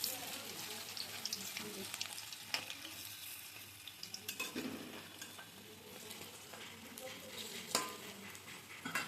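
Cauliflower fritters (phulkopir bora) frying in oil over lowered gas heat, a steady soft sizzle running throughout with occasional clinks and stirring sounds of a utensil in the pan.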